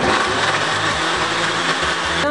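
A blender runs continuously, whirring loudly and steadily as it purées Scotch bonnet peppers, with a slight wobble in its low motor tone.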